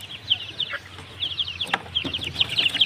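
Native and heritage chicks on a farm, a dense chorus of high cheeping and clucking close by, with soft shuffling and faint background noise.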